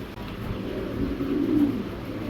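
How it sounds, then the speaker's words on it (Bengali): Romanian Beauty pigeons give a low, continuous cooing murmur at close range, swelling slightly toward the end, with no voices over it. "এই রোমানিয়ান বিউটি কবুতরগুলো আপনারা সংগ্রহ করে নেবেন"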